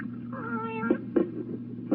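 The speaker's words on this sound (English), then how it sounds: "Hush up, cat." A cat on a bar in a frontier-era saloon lets out a drawn-out, wavering meow followed by a couple of shorter clipped cries, close and clear over a low room hum.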